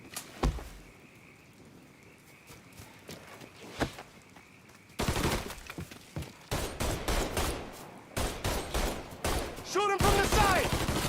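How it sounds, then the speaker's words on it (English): Gunfire from a shootout in the video game Mafia III, with heavy bursts and rapid shots crowding the second half after quieter isolated cracks, loud and close, with voices shouting between volleys. "Shoot him from the side!"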